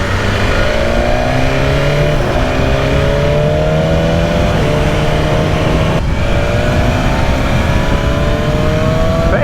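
A BMW S1000RR sport motorcycle engine drones steadily and loudly while riding, its pitch climbing through gears with brief dips at shifts, constant roar throughout with rushing wind.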